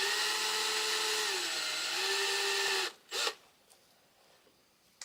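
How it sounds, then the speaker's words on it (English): Small drill boring out pin B21 of an engine wiring harness connector for a V8 Jeep TJ, a close, steady high whine for about three seconds, dipping once under load, then a brief final burst before stopping. "I'm going to drill out pin B21 right now, which is the overdrive solenoid control"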